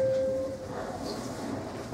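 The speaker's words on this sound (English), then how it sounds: "This is a Queensbound R train." A Queensbound New York City R subway train running, giving a steady rumbling roar with a brief tonal whine at the start, close and continuous.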